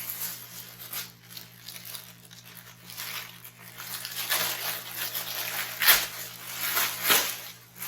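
A plastic bag holding photography backdrops crinkles and rustles up close in irregular bursts, louder toward the end with a few sharp crackles.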